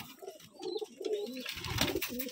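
Several biscuit-coloured pigeons coo in a repeated rolling rhythm at a Rajshahi loft, close and fairly loud, with extra birds and rustling joining toward the end.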